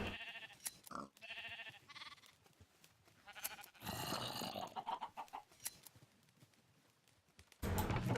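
Sheep bleat repeatedly from a pit in Minecraft, with several overlapping bleats mixed with clucking and clip-clopping game sounds, fairly close and busy.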